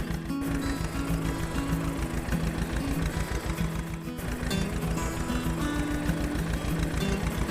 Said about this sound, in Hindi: किशन जी जब ट्रैक्टर से खेती कर रहा था